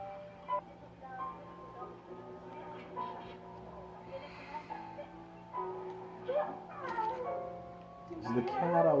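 A cat meows several times at night, the cries rising and bending into a drawn-out caterwaul near the end, with a person speaking quietly in between over a faint background hum.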